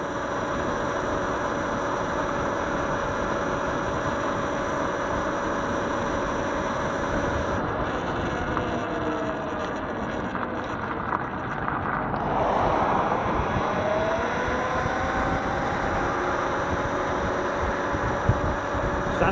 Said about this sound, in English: Yes, a very law-abiding little scooter it is.